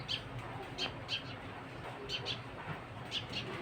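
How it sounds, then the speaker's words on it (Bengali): Sparrows chirp in short, repeated bright calls at a garden tree beside fields of newly harvested rice, fairly faint over a steady outdoor hiss. "চড়ুই পাখির আওয়াজ শুনতে পাচ্ছেন"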